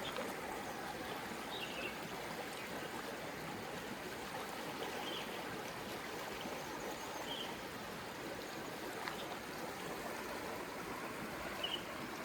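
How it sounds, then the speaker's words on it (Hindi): A riverside stream in the hills flows steadily near a camping spot, a continuous even rush of water with faint bird chirps scattered through it. "नदी का साउंड सुनो जी आप थोड़ा सा।"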